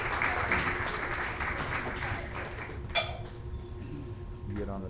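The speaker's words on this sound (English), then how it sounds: "let's give a round of applause for the panelists to get up here" Seated audience at an entrepreneurship speaker event claps for panelists coming up to the stage, a steady moderate round of applause with a brief clatter midway and talk underneath.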